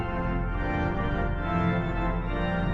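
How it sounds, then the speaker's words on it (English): A 1906 Felgemacher pipe organ plays a sustained, loud chord on its full choir stops with couplers added, a dense steady tone holding evenly throughout. "If you add these couplers, it gets much stronger"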